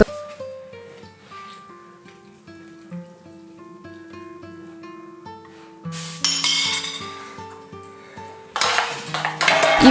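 Green borscht with sorrel and spinach being stirred in a pot, a spoon knocking and clinking against the metal sides in a light irregular rhythm, close, with louder splashy bursts of liquid near the middle and end.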